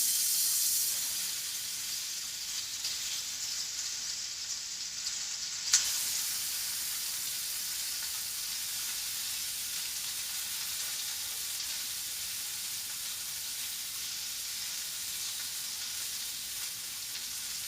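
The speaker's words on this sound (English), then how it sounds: "And then quickly throw these pork chops in there." Pork chops fry in a hot pan with a steady, fairly quiet sizzle and hiss that runs throughout, with one sharp tick partway, no voices.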